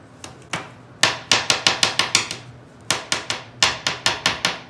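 A pysanka kistka is tapped repeatedly against a hard surface to knock melted beeswax out, giving about fifteen sharp, close knocks in quick irregular bursts with short pauses between them.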